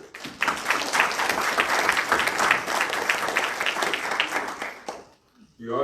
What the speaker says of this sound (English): suggest that we give those present here this afternoon a round of applause and appreciation for their public spirit